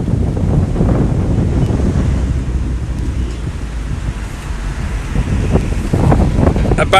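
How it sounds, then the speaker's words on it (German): Strong monsoon wind roars steadily against the microphone on a riverside terrace in Bangkok, a dense rushing gust with no letup, like a storm building outdoors. "Also ihr seht schon, es ist sehr windig. Ihr werdet es wahrscheinlich auch hören."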